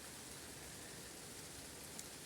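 Light summer rain falls steadily outdoors near a garden, making an even, dense patter of drops that hisses across the whole clip with no voices.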